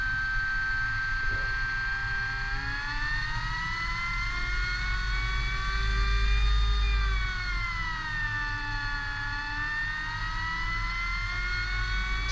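A 10 kW electric boat motor fitted to a converted sailing yacht revs up past 2000 RPM, giving a steady close whine with rising and falling tonal harmonics and a low hum beneath, swelling slightly in the middle.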